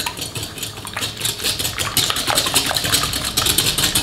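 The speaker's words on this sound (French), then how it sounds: "On mélange." Whole eggs being stirred together with blond brown sugar (vergeoise) in a bowl for plum cake muffins, a continuous scraping and clinking of utensil against bowl, fairly loud and steady with a low hum underneath.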